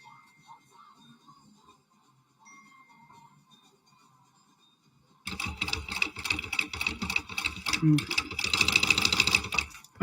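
A sewing machine runs a basting stitch around a bag with a zipper, starting after about five seconds of faint background and then whirring steadily and loudly in a continuous rapid run to the end.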